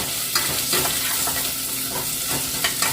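Sliced large onion sizzles steadily in hot oil in a pan while being stirred for a Jaffna chickpea and brinjal curry, a loud continuous hiss broken by a few soft scraping strokes.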